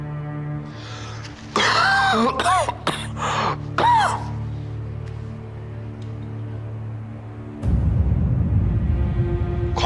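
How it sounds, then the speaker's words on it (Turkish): A man's deep, heavy coughing fit comes in several harsh bursts close by over a low hum, then gives way to quieter breathing and background noise. "Komutanım içli içli öksürüyorsun."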